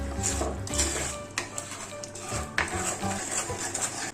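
Spices and salt being stirred into a tuna curry mixture, with close, continuous scraping and clinking of a spoon against a metal pot in uneven strokes and nobody speaking.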